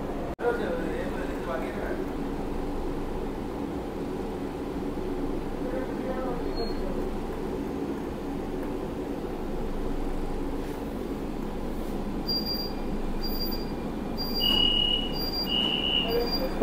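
A Kolkata Purple Line metro train runs on the Majerhat–Joka route near Thakurpukur station, giving a steady, loud rumble throughout with a short series of high electronic beeps near the end.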